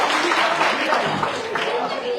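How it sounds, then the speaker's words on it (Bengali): A classroom group at an English-learning session claps for Bangladesh, brisk applause of many hands that rises and fades over a couple of seconds, with voices mixed in. "একটা হাততালি দিয়ে বাংলাদেশের জন্য"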